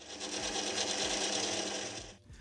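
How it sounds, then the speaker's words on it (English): A small pilot drill bores through steel stock on a lathe, giving a steady, close grinding whir with a rhythmic low chatter that holds for about two seconds and then cuts off abruptly. "Then I can drill a little center spot and run a small pilot drill through the center."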